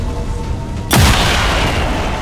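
A single loud sniper rifle shot in XCOM 2 cracks out with a deep booming tail that lingers over the steady game ambience.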